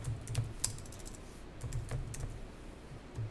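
Someone types on a computer keyboard in a classroom setting, a quiet, uneven run of close key clicks in short bursts with brief pauses.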